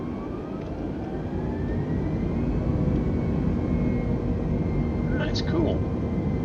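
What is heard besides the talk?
aircraft turbofan engines throttling, MS Flight Simulator video game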